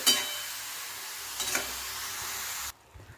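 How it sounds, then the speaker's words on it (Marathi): Grated carrot roasts in ghee on medium-low gas, a soft steady sizzle with a brief scrape of stirring midway, cutting off near the end; no speech. "मीडियम टू लो लो गॅसवर सात ते आठ मिनटं आपल्याला असंच गाजराचं खीस भाजून घ्यायचं आहे तुपामध्ये"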